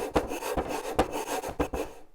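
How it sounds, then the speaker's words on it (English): Wood rasped by hand on the compound angle sides of a butler's tray, about five distinct, close scraping strokes in an even rhythm, alone without speech. "using the rasp"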